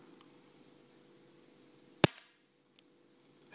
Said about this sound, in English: I'll just show you the flashbang that we're getting out of this capacitor over here